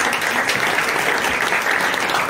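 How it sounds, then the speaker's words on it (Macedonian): An audience at a talk on blockchain and Web3 claps in sustained, dense applause, steady and fairly close throughout. "аплаузи за ви, ве мола"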